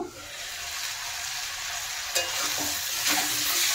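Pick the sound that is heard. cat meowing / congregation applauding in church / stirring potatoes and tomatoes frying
stirring potatoes and tomatoes frying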